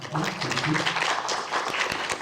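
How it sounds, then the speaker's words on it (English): Audience applause at a policy lecture series for its organiser Nikolai, a moderate round of clapping from the room with a voice speaking faintly over part of it. "can you give a round of applause to Nikolai, who's put the series together?"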